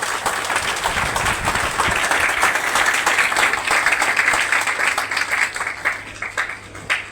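An audience at a welcome gathering for the new chairman of the Punjab Minorities Commission in Bathinda claps in a dense, sustained burst that fades slightly toward the end.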